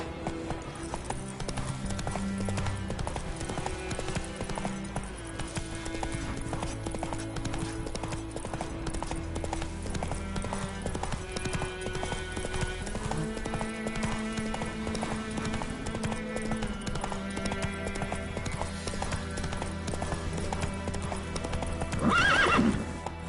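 Hooves of the horse Roach clip-clopping at a steady galloping rhythm in The Witcher 3, continuous beneath a layered game music score, with a whinny rising near the end.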